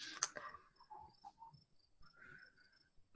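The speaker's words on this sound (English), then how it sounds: "I love that the cricket sounds are going because it's perfect for what's happening right now" Crickets chirp faintly in a quiet background, with thin repeated high trills spread across a few seconds and no voices.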